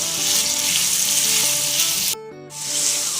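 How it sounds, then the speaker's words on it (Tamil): Small onions sauté with turmeric and salt for an onion thokku, giving a loud, close, steady frying hiss over a faint tonal hum. The sizzle cuts out abruptly for a moment near the end, then returns. "இந்த தொக்குக்கு தேவையான அளவுக்கு உப்பு சேர்த்து வதக்கிக்கலாம்."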